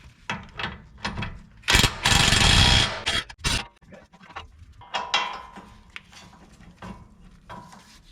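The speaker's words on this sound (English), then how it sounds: "So let me get those bolts undone" A ratchet wrench undoes the steering knuckle bolts on a fifth-generation Toyota 4Runner during a CV axle replacement: close clicking ratchet bursts and metallic clunks, with one longer, louder grinding run in the middle.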